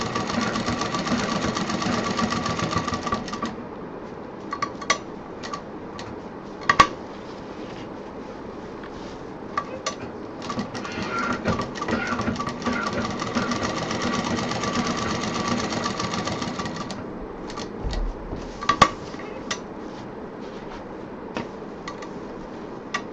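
A sewing machine stitches a belt onto a handmade bag, running in a fast steady hum for several seconds. It stops briefly, restarts, and pauses again near the end, with small clicks between the runs.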